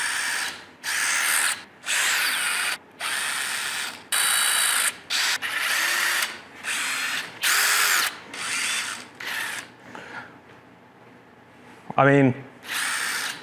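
Power tools run in a home office setup, with a drill whirring in repeated short bursts separated by brief pauses. A rising motor whine comes near the end, and a voice speaks briefly.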